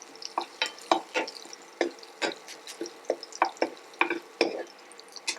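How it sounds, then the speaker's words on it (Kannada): Green chillies frying in a hot tempering pan, crackling bursts and soft spatters repeating every half second or so, close by with no voices. "ಸೊ ಇದು ಕೂಡ ಫ್ರೈ ಆಗ್ತಾ ಇರೋ ಹಾಗೆ"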